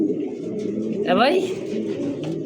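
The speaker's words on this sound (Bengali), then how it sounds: "দুইটাই মাদি কবুতর।" At a pigeon sale, one of a pair of female pigeons gives a short, clear coo partway through, close by, while a voice speaks over a steady murmur of people in the background.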